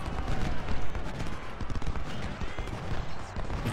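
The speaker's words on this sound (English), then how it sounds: "They're just getting crazy, crazy grape shots against us." Grapeshot artillery and musket fire roar in a Civil War battle in Ultimate General: Civil War, a continuous loud, crackling din of overlapping volleys with no pauses.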